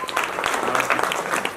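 Audience applause at a Bhagavat katha, a short dense burst of many hands clapping at once, loud and continuous.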